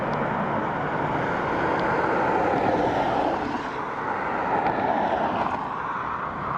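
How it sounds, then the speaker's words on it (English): An Aer Lingus Airbus A320neo landing at Dublin Airport, a continuous jet engine rush heard at a distance that swells and eases in a smooth, unbroken wash. "A320neo next from Aer Lingus"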